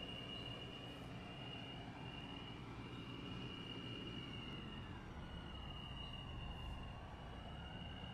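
Subway train in the Roblox video game rolling steadily along the track, a continuous loud rumble with a sustained high whine throughout, no talking.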